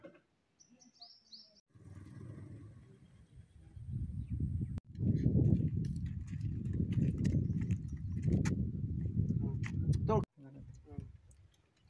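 Horse hooves clip-clop in a steady rhythm alongside chirping birds, with someone talking over much of the sound outdoors.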